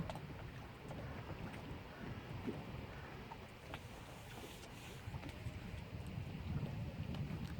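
Water lapping against the side of a boat on a river, a soft, steady wash with faint irregular knocks, mixed with wind buffeting the microphone throughout.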